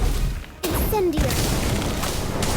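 The Incendio fire spell in Harry Potter: Magic Awakened goes off as a sudden loud whooshing burst over dense game effects. A brief tonal sweep rises through the blast.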